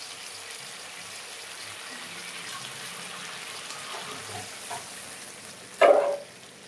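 Potatoes being fried in a pan with water poured in: a low, steady background of cooking gives way near the end to a sudden loud hissing burst that quickly fades.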